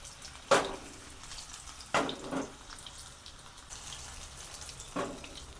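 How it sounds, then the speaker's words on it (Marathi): Cheese corn paratha shallow fries in oil, with a few distinct sizzling splashes as pieces are dropped into the pan at intervals, followed by a faint steady hiss in between. "आता आपण हे शॅलो फ्राय करून घेणार आहोत। सर्व आपण असे तेलामध्ये टाकून घेऊया।"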